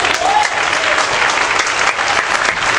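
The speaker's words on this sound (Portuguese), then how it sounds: "Você pode aplaudir?" A church congregation breaks into loud, dense applause that holds steady from start to finish, with no voices above it.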